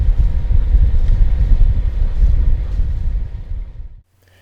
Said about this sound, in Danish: Så vi tøffer stille og roligt inden for motor.